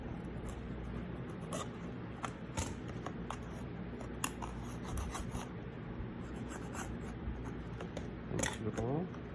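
A tool scrapes adhesive residue off an LG Q52 phone display in rapid, repeated short scratches. The scraping sounds close and fairly quiet over a constant low background hum, with no voice.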